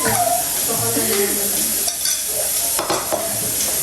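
Squid sizzles and fries in a pan while being stirred, with steady crackling sizzle and repeated scraping stirs running throughout, close and fairly loud, with faint voices in the background.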